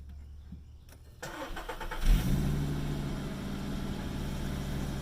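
A 2013 Volkswagen Golf with no exhaust fitted starts up about a second in, barks with a loud rev and then settles into a raw, rumbling idle, close and alone.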